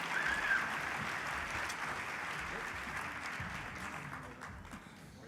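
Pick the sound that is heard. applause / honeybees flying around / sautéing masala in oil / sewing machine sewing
applause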